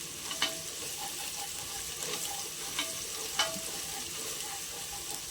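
Ginger garlic paste fries in a pressure cooker while being stirred with a wooden spoon, a soft continuous sizzle with a few light scrapes and taps at irregular intervals.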